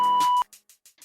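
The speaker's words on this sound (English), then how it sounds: "go ahead and leave your question at the sound of the beep" A voicemail beep sounds as a single steady electronic tone lasting under half a second, followed by faint clicks and near silence.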